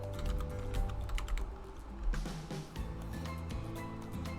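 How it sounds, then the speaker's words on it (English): Close-miked typing on a computer keyboard, a steady patter of key clicks over a low background hum, loud and near with small bursts throughout. "This is what happens when you put your mic right in front of your keyboard."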